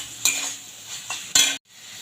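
Ginger and potatoes frying in a pan bring scraping spatula and utensil clatter in three quick bursts over a faint low sizzle, with a sudden brief silence after the last stroke.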